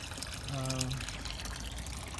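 Crystal-clear water flows steadily from the filter of a stock tank goldfish pond in Texas, a close, continuous trickling wash with a brief voice-like hum partway through.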